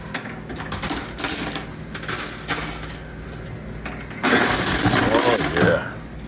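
Coins clatter and drop in a coin pusher machine, with mechanical whirring and ratcheting bursts and a louder cascade near the end.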